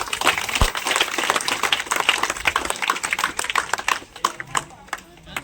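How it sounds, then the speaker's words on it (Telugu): A crowd claps steadily for several seconds at an Ambedkar Jayanti event in Degam village, a dense patter of hands that swells and thins, with people talking underneath. "ఏదైతే పేర్లు తీసుకునేటప్పుడు గట్టిగా చప్పట్లు కొట్టండి."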